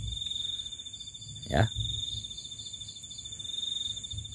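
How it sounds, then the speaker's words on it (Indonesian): Crickets chirp steadily at night in a calm rural home setting, a continuous high trill with a brief spoken word and a short rustle partway through. "Barangkali teman-teman mendengarkan adanya suara jangkrik yang seperti itu."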